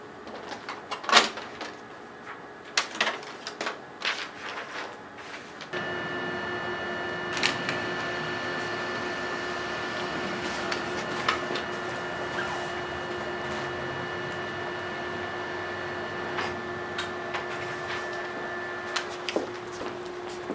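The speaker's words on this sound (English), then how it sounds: "Place the AW Transclip on the bypass door and print the negative image." An inkjet printer prints a negative image onto AW Transclip transfer paper, fed through the bypass door, for Neenah IMAGECLIP for Inkjet. A steady mechanical whir starts after a few seconds of quiet clicking and runs evenly, with faint clicks and ticks and no voices.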